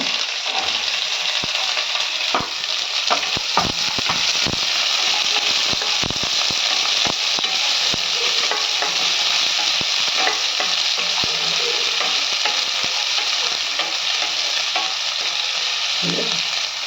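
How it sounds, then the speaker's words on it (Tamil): Onions with chana dal fry in oil and are stirred in a pan, a loud continuous sizzle broken by sharp crackles and scraping spoon strokes, nobody speaking. "இது கொஞ்சம் கலர் மாறட்டும் வெங்காயம் போட்டுக்கோங்க"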